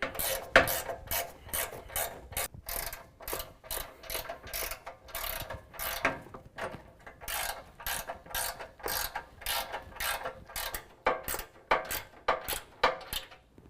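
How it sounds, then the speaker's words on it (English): Ratcheting wrench clicking rapidly in repeated bursts while tightening bolts on a push bar front bumper of a 2017 Chevy Silverado 2500, a close, steady ratchet rhythm throughout with no talk. "we're going to use a 19mm wrench and ratcheting wrench and tighten down the bolts on our passenger side"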